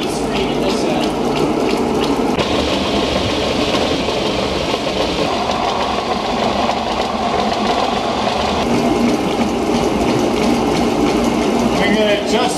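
A working model 1933 Fourdrinier paper-making machine runs with a dense, steady mechanical whir, pumping and flowing-water wash, loud and continuous, while a voice speaks over it.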